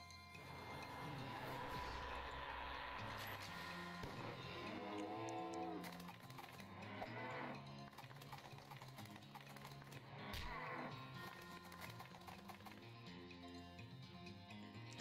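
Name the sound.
cows mooing on an attacked farm in the video game West of Loathing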